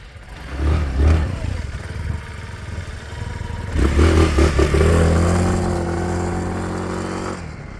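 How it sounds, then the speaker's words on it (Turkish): A scooter brakes hard with both brakes, its engine revving and clattering before a scraping rear-wheel skid and a sustained mid-pitched drone as it slows, loud and close. "Arka fren yine kızakladı, kaydırdı."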